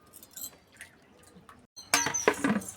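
Fish being rinsed by hand in a vessel of water, with soft drips and light sloshing at first, then a louder burst of close splashing and swishing toward the end.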